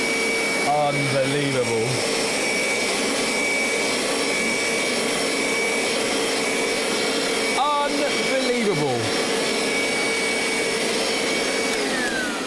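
A Vax Dual V upright carpet washer runs with a loud, steady whine nearby, while people talk briefly over it and gurgling suction noises come and go.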